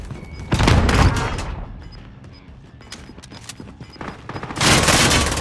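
Bursts of rapid gunfire in a Warzone battle royale match, loud and dense at the start and again at the end, with scattered shots and thuds in between and no talk.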